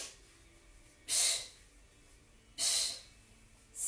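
Two sharp nasal sniffs followed by forceful blowing breaths, close and breathy, with a third burst starting at the end, performed by an instructor during a core Pilates exercise at home.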